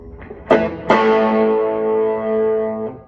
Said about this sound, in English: So now, put out some distortion on. This will be the bridge humbucker.